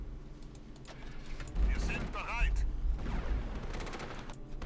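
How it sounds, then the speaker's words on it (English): Machine-gun strafing fire from a fighter escort hitting anti-aircraft guns in the Axis & Allies strategy game, with bursts of rapid gunfire and mechanical battle noise running steadily under a person talking. "There should be strafing the AAA right now"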